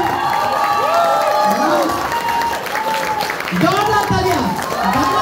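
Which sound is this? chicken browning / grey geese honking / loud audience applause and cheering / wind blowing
loud audience applause and cheering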